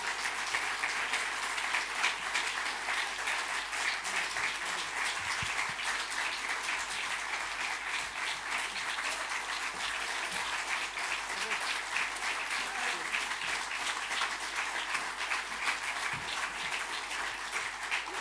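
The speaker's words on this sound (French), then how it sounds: "Vous pouvez l'applaudir." Sustained audience applause at an ethics awards ceremony rolls on evenly for about eighteen seconds, a dense crackling mass of many hands clapping at steady moderate volume without speech on top.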